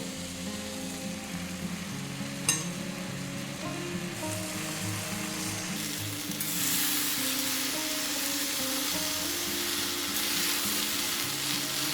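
Water spinach greens sizzling and frying steadily in a pan, a continuous close hiss with a sharp clink near the start and the sizzle growing louder partway through.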